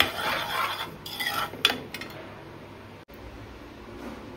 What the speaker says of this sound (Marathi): रवा मंद आचेवर भाजत ठेवलाय, अजून याला कलर थोडा चेंज होईपर्यंत भाजून घेऊ आपण